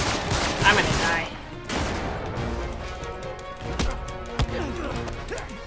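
Gunfire in the video game Uncharted 3: Drake's Deception, a burst of shots early on followed by scattered sharp cracks over a steady in-game background.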